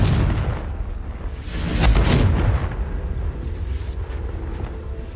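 A loud Confringo fire-spell explosion in Hogwarts Legacy bursting around the two-second mark, followed by a rolling rumble that slowly settles over continuous game ambience.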